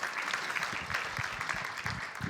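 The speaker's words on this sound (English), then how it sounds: "But give a big applause to Antoine Walter." An audience at the Energy Tech Summit 2023 claps after a startup pitch on the battery value chain, a steady patter of many hands at moderate distance, fairly soft and continuous, with no talking over it.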